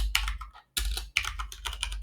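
Someone types code on a computer keyboard, producing quick bursts of close key clicks with brief pauses between them, heard on its own without talk.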